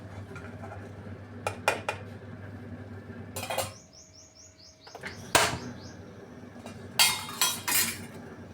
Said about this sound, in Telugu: ఇదిగోండి ఇలాంటి మూకుడు ఒకటి పెట్టుకోవాలి